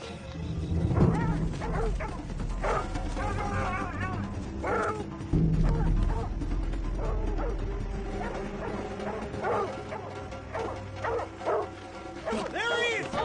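Dogs bark, yip and whimper at medium distance, mixed with shouting voices and a steady background rumble, with excited calls rising and falling throughout.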